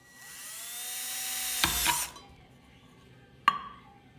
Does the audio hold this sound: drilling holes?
yes